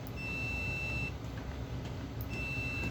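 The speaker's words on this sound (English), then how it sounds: "if this is connected straight across, you'll get a beep" A multimeter in continuity mode lets out two thin, steady electronic beeps, one at the start and one near the end, each about a second long, heard faintly over a constant low background rumble.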